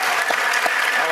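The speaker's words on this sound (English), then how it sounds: "Let's give them a round of applause." Audience applause at a candidate debate for California's 34th congressional district: a short burst of many hands clapping, dense and close, with a voice speaking over it.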